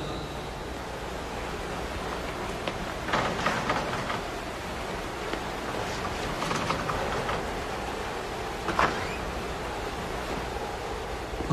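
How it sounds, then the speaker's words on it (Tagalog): Steady heavy rain roars as a dense, even wash of noise, with a few brief louder patches rising above it. "Ay, naku, lakas talaga ng ulan."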